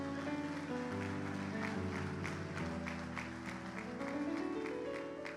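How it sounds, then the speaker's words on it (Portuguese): A church congregation breaks into sustained applause during a Portuguese-language sermon, a steady wash of clapping over music, moderately loud and continuous throughout. "Dê uma salva de palmas ao Senhor."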